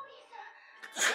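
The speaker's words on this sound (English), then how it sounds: "Bless you." A single sharp sneeze bursts out at the end, just after a person's voice trails off, close and fairly loud.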